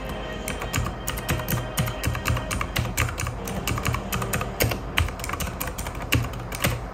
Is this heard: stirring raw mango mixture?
no